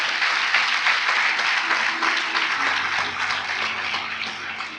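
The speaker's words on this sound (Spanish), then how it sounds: "Denle un aplauso fuerte, por favor." A church congregation gives loud, sustained applause, a dense wash of many hands clapping that fills the room steadily, with no talk over it.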